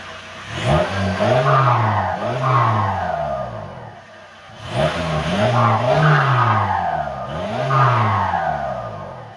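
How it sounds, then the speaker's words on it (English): A diesel TDI car with a custom exhaust revs twice in two sweeping bursts, each climbing and falling with a rough, throaty drone, loud and close with no talking. "Give me a couple revs."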